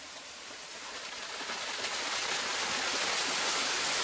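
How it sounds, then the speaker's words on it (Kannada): A waterfall near Paladhara and Panchadhara at Srisailam pours in a bright hissing rush that swells steadily louder as it draws nearer, with no one speaking. "ಪಾಲಧಾರ ಮತ್ತೆ ಪಂಚಧಾರ ಪಕ್ಕದಲ್ಲೇ ಒಂದು ವಿಶೇಷವಾದ ಜಲಪಾತ ಇದೆ"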